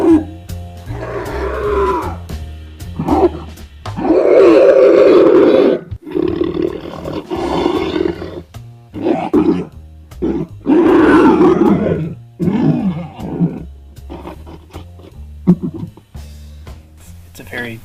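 A human voice actor run through real-time audio filters into a deep monster growl, with loud, guttural roars and grunts coming in repeated bursts, close and heavy, with short pauses between them.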